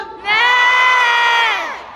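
A festival crowd at a university concert lets out one loud, sustained collective scream of cheering and shouting, swelling in quickly and holding before fading at the end.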